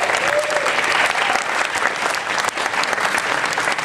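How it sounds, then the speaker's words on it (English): An audience at a town hall meeting applauds a guest, dense sustained clapping from a crowd that stays loud and fairly even, with a brief voice heard early on. "let's give him a round of applause"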